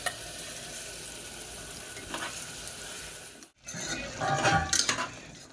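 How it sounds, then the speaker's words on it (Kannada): Ground masala frying in oil in a pan while being stirred for a mushroom biryani, a steady close sizzle with scraping stir strokes that grow louder and busier toward the end after a brief gap. "ಮಸಾಲೆನೂ ಎಣ್ಣೆಗ ಸ್ವಲ್ಪ ಕೈ ಆಡ್ಕೊಂಡ್ರೆ"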